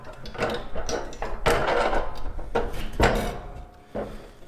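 A metal barrel stove door on a 55-gallon drum stove kit swings open and shut a few times, giving short knocks and clanks close by, mixed in with ongoing talking.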